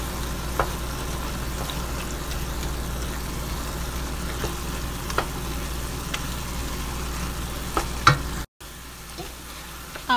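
Ground meat with salt and tomato paste being stirred in a sizzling pan, a faint steady fry with a few soft scrapes and taps of the utensil.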